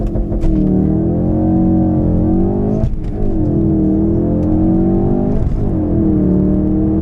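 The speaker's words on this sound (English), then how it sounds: "Use launch control, full throttle." A 2017 Ford Focus RS 2.3 hot hatch launching at full throttle with launch control, its engine roaring loud and close as it climbs through revs, with two brief dips for gear changes before it pulls hard again.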